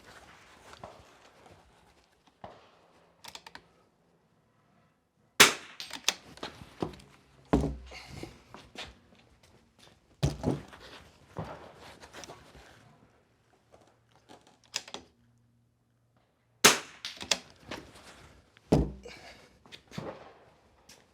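Rifle shots during an NRL22 match stage, sharp separate reports spaced several seconds apart, with quieter clanks and handling noises in the gaps between them.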